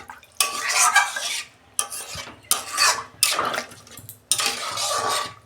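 Water is poured into fish curry with tomato and stirred in a pan. Several loud bursts of splashing and stirring are separated by short pauses, with utensils clinking against the pan.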